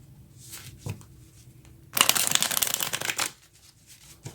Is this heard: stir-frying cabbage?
no